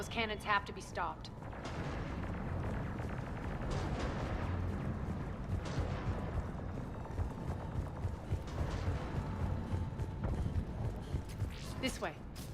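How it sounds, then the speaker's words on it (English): Heavy booming cannon shots thud amid mechanical Mass Effect 3 game noise, with voices speaking over the rumble. "Those cannons have to be stopped."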